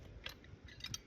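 Two wrenches tightening a fitting on a poly pipe water line, faint close clicks and scrapes of metal gripping plastic in a few short bursts over a low background rumble.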